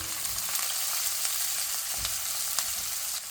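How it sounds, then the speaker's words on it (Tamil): Onions browning in a pan with mustard seeds, cumin, sliced garlic, curry leaves and green chillies for Sri Lankan fish cutlets give a steady, dense sizzle throughout, with a few soft clicks of stirring and no voices. "So we have put a few ingredients in and we're waiting for the onions to brown up"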